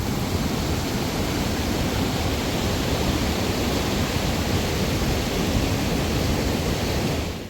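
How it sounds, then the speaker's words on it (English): Two waterfalls pour into a river stream, making a loud, constant roar of rushing water that holds steady for the whole stretch with no voices. "You got one waterfall coming down there into the river stream."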